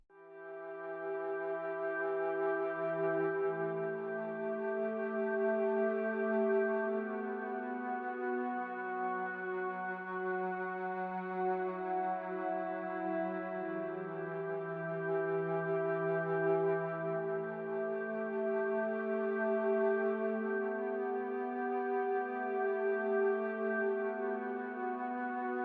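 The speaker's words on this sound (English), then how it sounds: "It's the sound of a flute. And then it blends into a string patch," A Korg Wavestate synth pad moves from a breathy flute tone into a string patch and then electric piano, sustained chords drifting smoothly for nearly half a minute, soft and alone.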